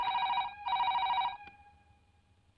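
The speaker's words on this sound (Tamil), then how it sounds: "போன் எடு." A telephone bell rings loudly in two long bursts with a short gap, then goes quiet until a new ring begins at the end, in an indoor scene from a Tamil drama film.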